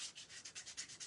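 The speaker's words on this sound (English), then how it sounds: "You just use sandpaper." Sandpaper rubbed by hand without a sanding block, a steady series of about eight rhythmic back-and-forth scratchy strokes, close and fairly quiet, with no voices.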